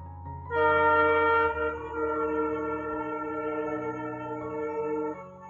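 A train sounds a long, loud, steady horn blast for several seconds, dominating the scene with a low rumble beneath, outdoors in a village in Assam.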